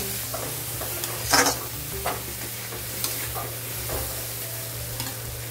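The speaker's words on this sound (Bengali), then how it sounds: "দিয়ে এটাও মশলার সঙ্গে একটু নাড়াচাড়া করে নেব।" Fried potato and elephant foot yam are stirred into a sizzling spice paste in a pan for a rohu fish curry, steady frying hiss under a few scraping spoon strokes, close up and without speech.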